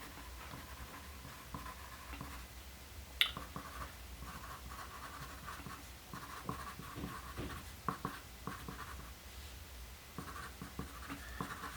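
Pen or pencil scratching notes by hand on paper, a quiet run of short scribbling strokes with small taps and pauses, close and soft with no talking.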